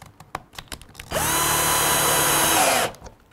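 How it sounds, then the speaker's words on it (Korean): A power drill with a center drill bit bores hinge holes in wood, whining loud and steady for about two seconds after a few light taps and clicks, then stopping into quiet handling noises. "이 센터 드릴 비트로 똑같이 뚫어놓고"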